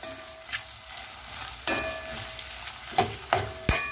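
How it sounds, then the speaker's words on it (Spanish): An onion fries in a pan for arroz con maíz, giving a steady close sizzle broken by several sharp scrapes and clinks as it is stirred. "vamos entonces a agregar nuestra cebolla y cocinamos unos minutitos"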